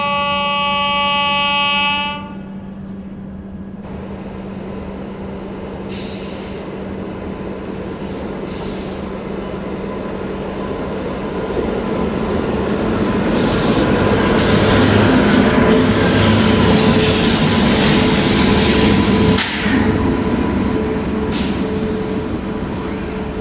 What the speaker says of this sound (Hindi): इस ट्रेन का यहाँ पर हॉल्ट है, तो ये ट्रेन यहाँ पर हॉल्ट लेने वाली है।